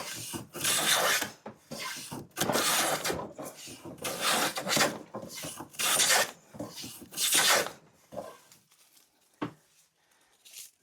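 A vintage Stanley No. 4.5 hand plane with a loose tote is pushed along a wooden board, making repeated loud, breathy rasping strokes in a steady rhythm before it ends in a sharp knock.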